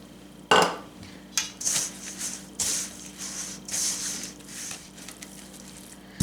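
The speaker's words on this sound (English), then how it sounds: "Let's add our 1 cup of milk. Mix it together a little bit better." A hamburger steak mixture with a cup of milk is stirred with a utensil in a bowl, giving a series of close scraping, clinking and squishing strokes with short pauses between them.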